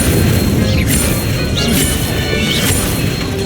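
An Incendio fire spell cast in Hogwarts Legacy, a loud crashing burst with rumbling booms and whooshing impacts, followed by a few quick swishing zips amid combat noise.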